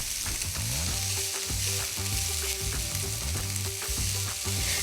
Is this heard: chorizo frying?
yes